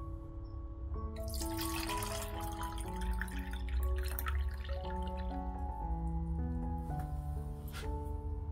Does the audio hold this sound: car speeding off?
no